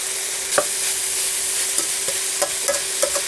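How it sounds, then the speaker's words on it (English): Oil sizzles steadily in a pan while braised pork is cooked with dried sweet potato leaves, a close continuous hiss broken by a few soft stirring taps. "now it starts to sizzle really well"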